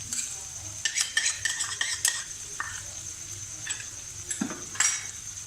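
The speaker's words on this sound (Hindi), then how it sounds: "अब हम इसके अंदर टमाटो पेस्ट डाल देंगे।" Tomato paste is stirred into onions and garlic frying in a pan while shakshuka is cooked. A spoon scrapes and clinks against the pan in quick irregular strokes over a faint, low sizzle. The sounds are fairly quiet, with no talking.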